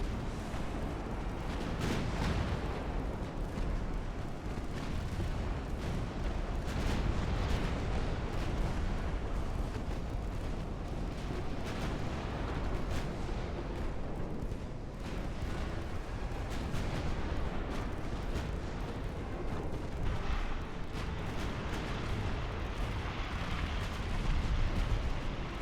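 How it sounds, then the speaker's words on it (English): Battleship guns booming in the naval strategy game Ultimate Admiral: Dreadnoughts, a continuous, faint barrage of deep thuds and rumbling blasts overlapping one another without pause. "Battleships are still firing."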